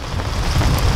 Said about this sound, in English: Dude, that's hail! It's hailing out.